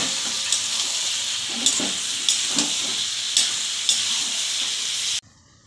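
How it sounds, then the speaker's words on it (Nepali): Ground spices frying in a pan with brinjal, fish and tomato give a steady close sizzle and hiss, broken by a few soft stirring knocks at regular intervals, with no voices, until the sound cuts off abruptly. "पिसेर राखेको मसला लाएर मजाले फ्राई गर्ने मसला नभुटुन्जेलसम्म"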